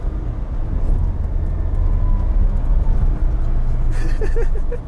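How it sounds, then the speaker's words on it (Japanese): A 1985 Daihatsu Atrai van engine braking on the road, a loud low engine drone under road rumble with a faint rising gear whine, heard from inside the cabin, voices briefly near the end. "これが好きなんですね、このギアの音。"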